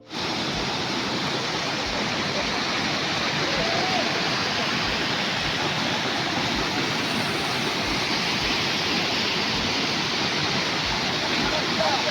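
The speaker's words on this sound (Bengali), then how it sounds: "আর সাইডে যেহেতু জলের আওয়াজ আসছে" Loud, steady rushing water pours nonstop at Mukutmanipur dam, a dense roar that fills the scene from start to finish with no breaks.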